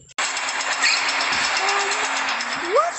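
Train passing close by, a loud continuous rumble and clatter that fills the whole clip after an abrupt start, with a squealing tone near the end; no talking.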